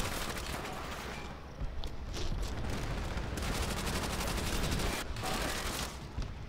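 Rapid automatic gunfire in Call of Duty: World at War, a dense, continuous barrage of shots rattling on for several seconds at steady loudness, with no one speaking.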